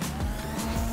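A car drifting in GTA V on PC with a drift mod installed, its engine droning steadily as the tires squeal through a short, continuous slide, close and loud.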